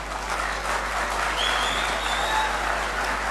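An audience at a literary lecture applauds in a steady round of clapping that holds at even loudness for a few seconds.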